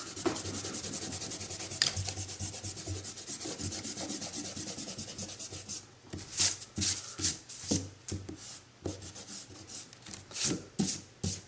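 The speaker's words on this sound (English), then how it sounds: "now you just need to erase these guidelines" An eraser rubs out pencil guidelines on paper in a steady, soft scrubbing, then breaks into sharper, separate back-and-forth strokes, close up.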